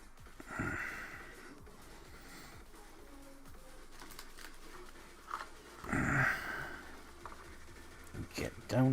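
A dog indoors pants and snorts, and brief bursts of breathing and shuffling come from close by. A faint voice is heard at times underneath.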